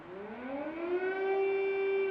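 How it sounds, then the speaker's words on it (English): Civil defense air raid siren wailing in Ukraine during a Russian missile attack, a single steady tone rising in pitch and then holding, heard at moderate distance with no voices. "The country waking up to air sirens and Russian ballistic missiles going off."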